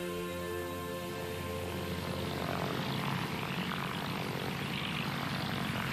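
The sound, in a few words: SAAB S-17 propeller aircraft engine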